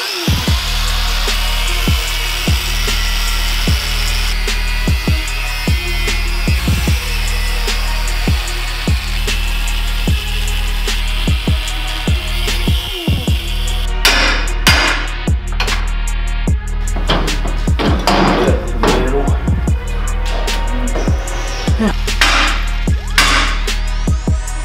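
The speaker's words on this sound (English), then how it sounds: "let's cut everything I welded on off" Cutting welded parts off a Kawasaki Mule bed with a power tool fitted with a 713cc V-twin custom exhaust. A steady tool whine carries through with repeated sharp ticks, and harsher scraping cuts come in during the second half.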